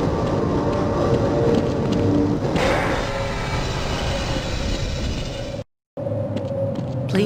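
Tram car pulling into a station in the Half-Life game, a steady low rumble and rattle throughout with a brief dropout near the end, no voices.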